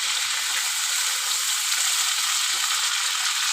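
Rohu fish sizzling in hot oil in a pan for a light curry with papaya and potato, a steady, loud, close hiss of frying that continues without a break.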